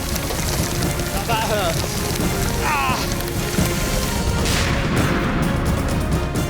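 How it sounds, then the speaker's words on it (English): Heavy hail pounds down in a dense, continuous broadband roar of impacts, loud and steady throughout, with a voice briefly speaking over it. "Out in a hailstorm like you have never seen. The thing's coming down at 100 miles an hour."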